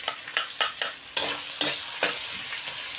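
Onion sautéing in hot oil with garlic in a pan previously used for frying fish, giving a steady close sizzle broken by several sharp stirring scrapes and crackling bursts, with no voices.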